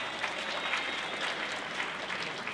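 An audience at a biennial breakfast ceremony claps for Mr. Clarence Ross Sr., a soft, steady, distant-sounding patter of applause with no pause.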